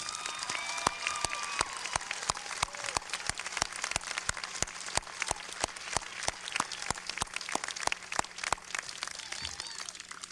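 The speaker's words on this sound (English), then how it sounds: "Let's give them a round of applause." A commencement ceremony audience gives a round of applause, heard as a sparse, fairly quiet patter of distinct claps spread evenly across the room, with a low steady hum underneath.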